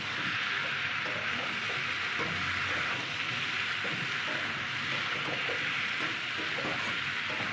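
Fish with taro and green chillies sautéing in a pan gives a steady, soft, continuous sizzle with faint stirring scrapes, even and unbroken throughout.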